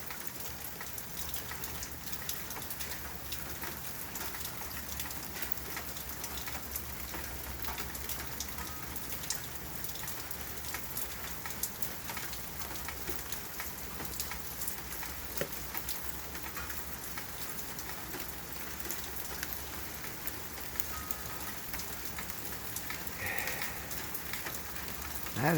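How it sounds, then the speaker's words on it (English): Steady rain falling on surfaces outdoors near a garden, a dense, even hiss of drops with a constant low rumble and no voices throughout. "I think we mainly got rain this time around."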